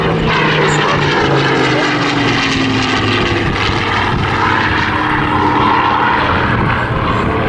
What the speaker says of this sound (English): Lovely Griffin engine.